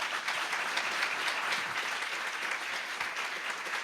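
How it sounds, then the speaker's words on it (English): Community gathering honoring a police chief, with the audience clapping for the hosts, a steady, moderately distant round of applause from a sizable crowd, uniform and sustained. "Round of applause."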